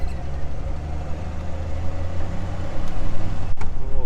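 A 1973 Jeep CJ-5 engine runs steadily while driving, a low continuous rumble with road noise and a brief sharp knock near the end.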